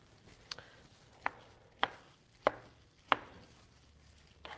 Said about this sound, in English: we're going to get our cutting board here, and we're just going to quickly cut these